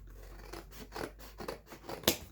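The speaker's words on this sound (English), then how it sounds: "It's kind of hard to cut with just a scissor" Scissors snipping through thick cardboard being trimmed into a rectangular canvas along its creases, a series of about five crunchy, scraping cuts at a steady pace, close and moderately loud, with the last cut sharpest.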